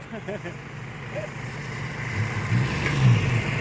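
A tractor working a field revs its engine in a steady, building drone that swells louder toward the end, with a few brief voices faintly mixed in early on.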